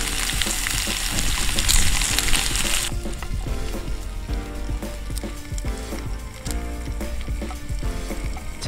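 Bacon frying in a pan on a camp stove outdoors, a steady loud sizzle and crackle that carries on throughout with no talk.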